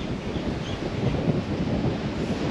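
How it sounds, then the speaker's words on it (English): Gusty wind on Maui buffets the microphone with a constant low rumble and roar, no voices present. "A little windy today."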